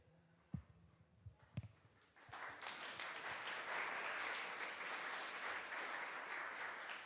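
Conference audience at a KDE Akademy talk breaks into sustained, loud applause after a few scattered early claps, a dense wash of clapping that fills the room and holds steady.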